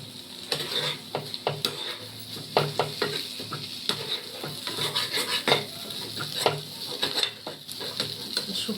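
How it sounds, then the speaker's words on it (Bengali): Potato being mixed into a chop mixture in a nonstick wok: repeated scraping and stirring strokes of a spatula against the pan, with clinks and a light sizzle, close and steady. No talking. "আলুটা দিয়ে আমি ভালো করে এবার মিশাবো।"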